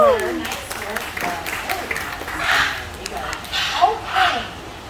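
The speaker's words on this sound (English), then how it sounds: "Let's give a nice round of applause for Clover." Audience applause at a bird show in the Florida Keys rises in a few soft bursts, partly masked by a presenter talking over it.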